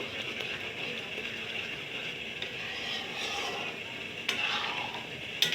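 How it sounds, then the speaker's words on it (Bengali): Tomato masoor lentil dal gets stirred in a pot, a faint, steady soft scraping and bubbling wash with a couple of slightly louder scrapes near the end. "পাঁচ মিনিট পর পর ঢাকা তুলে এইভাবে নেড়ে দেবো"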